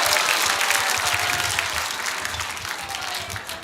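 An audience applauds after a lecture in a Korean hall, a dense, loud wash of many hands clapping that gradually thins and fades over a few seconds.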